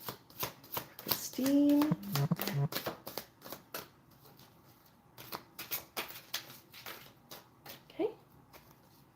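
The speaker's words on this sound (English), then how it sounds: "Let me just get a couple of these Galactic Heritage cards" Galactic Heritage oracle cards being shuffled by hand in quick bursts of crisp riffling and flicking, close and fairly loud, with brief speech and a short exclamation in between.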